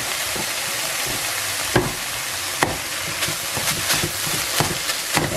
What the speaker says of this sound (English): now I'm going to add about a tablespoon of minced garlic.